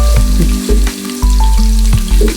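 Ginger drops into hot oil for pork bopis and fries loudly and close, a strong crackling sizzle with a few stirring knocks and spatters.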